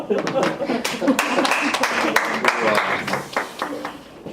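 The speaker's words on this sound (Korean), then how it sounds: "박수 합시다" A small group at a panel discussion on digital commons and internet NGOs claps loosely, with scattered individual claps mixed with murmuring voices and talk.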